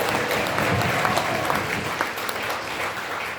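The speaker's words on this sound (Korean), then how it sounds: "여러분 유동열 박사께 한번 큰 박수 부탁드립니다." Audience applause at a book launch event in a Seoul convention hall, a dense burst of clapping from a full crowd, loud and sustained, fading slightly toward the end.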